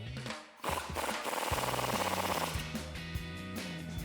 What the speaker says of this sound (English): now we can go ahead and tighten it down using our 21 millimeter socket and our 21 millimeter wrench